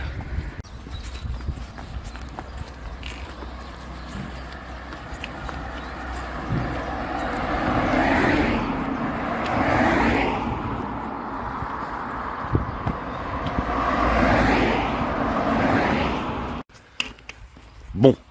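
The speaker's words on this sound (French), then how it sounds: "une fois que j'aurai quitté cette route à grande circulation" Cars and trucks pass on a busy main road, heard from the roadside as loud whooshing swells that rise and fade one after another over a constant low wind rumble.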